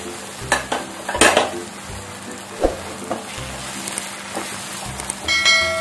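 Mint sautéed and stirred in a pan for donne biryani gives a soft, steady sizzle broken by scraping stirs and occasional clinks of the spoon against the metal pan.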